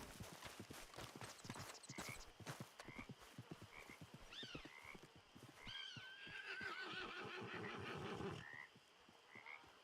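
A horse in Red Dead Redemption 2 trots along with a steady, rhythmic clip-clop of hooves. Whinnies rise partway through.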